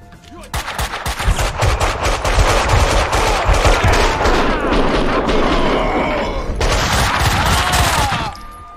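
Rapid bursts of automatic gunfire and single shots from the video game Max Payne 2, loud and close, rattling almost continuously with a brief gap before a final volley.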